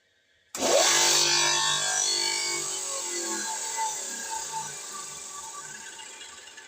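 A 3L631 machine tool starts up abruptly out of silence with a loud, broad whirring roar, then settles into a steady, slowly easing running hum with a faint tonal whine. It is close, and no one speaks.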